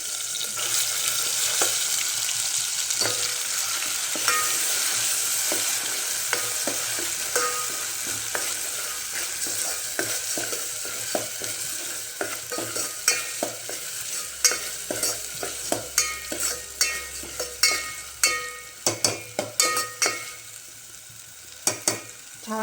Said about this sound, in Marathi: छान मंद गॅसवर भाजून घ्यायचा.